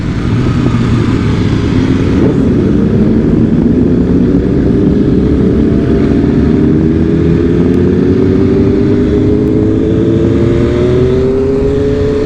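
A group of about fifteen motorcycles, including BMW S1000RR sport bikes, rides together, their engines droning loudly and continuously with rising pitch as they accelerate, heard close from among the pack.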